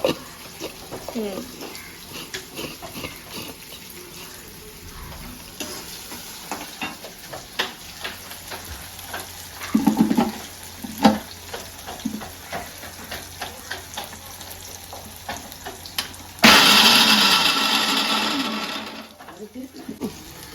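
Turkey berries (sundakkai) frying in hot oil in a home kitchen, giving a crackling sizzle with scattered pops, a burst of louder sizzling near the end; a voice talks over parts of it.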